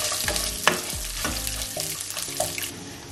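Small onions sautéing in a pan for a Tamil-style ground fish curry, with a soft steady sizzle and a few stirring scrapes and clatters, close and moderately quiet, no talking.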